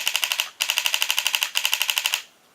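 A paintball gun fires on full auto in three quick bursts of rapid, evenly spaced sharp pops, loud and close, with brief gaps between bursts.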